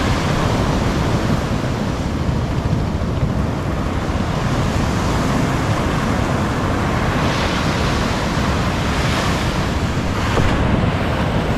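Sea waves surge and break around a small boat heading out to sea, a loud, continuous broadband wash with heavy wind buffeting the microphone and no voices.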